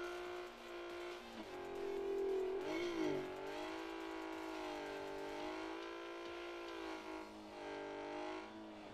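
A car engine in the Drift Max Pro mobile game revs and accelerates while drifting, a steady loud whine rising and dipping in pitch with a brief swoop in the middle, alone without voices.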